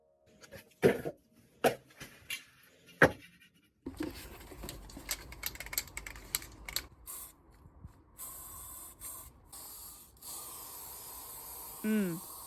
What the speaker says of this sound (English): Spray paint ASMR.